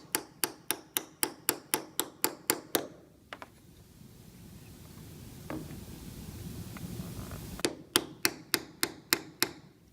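Sharp, regular hammer taps in a steady rhythm, then a pause filled with low rumbling and a few faint knocks before the tapping resumes.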